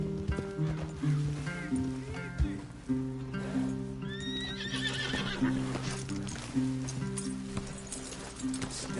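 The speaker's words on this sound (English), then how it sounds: "Leave the horses in the trees there." Horses in the Western video game Red Dead Redemption 2 whinny and snort amid clip-clopping hooves, with game music and a voice talking over them.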